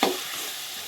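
A spiced mixture with chaat or Maggi masala fries in a pan while being stirred, a soft continuous sizzle with a short louder scrape at the start, close and without voices.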